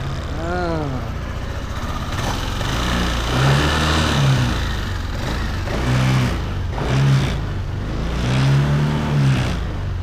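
Yamaha NMAX/NVX scooter engine running after repair, a mid-pitched idle with several short throttle blips rising and falling at intervals, close by, while someone speaks over it.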